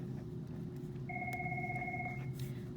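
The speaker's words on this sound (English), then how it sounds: "Excuse me as my phone is ringing." A single phone rings with a steady electronic tone for about a second over a constant low room hum, fairly faint.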